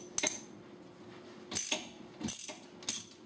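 Ratchet clicks loosening a Ford 7.5 or 8.8 differential fill plug on a Mustang through a 3/8 extension: four short bursts of clicking, close and fairly quiet, spaced over a few seconds with no talk.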